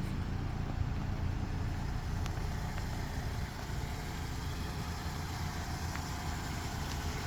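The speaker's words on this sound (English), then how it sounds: "Vehicle's currently running. Engine sounds normal." A 2011 Toyota Camry sits idling, its engine giving a low, steady rumble with no revving, recorded close and fairly quiet, joined by a couple of faint clicks along the way.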